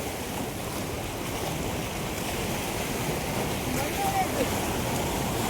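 Waves churn at the Dantiwada dam reservoir, a loud continuous wash of water mixed with gusting wind buffeting the microphone, steady throughout with a slight surge near the end.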